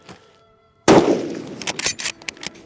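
A single loud, close rifle shot from a Type 2 Arisaka paratrooper rifle, a sharp crack with a decaying ring, followed by clicking and rattling of the action.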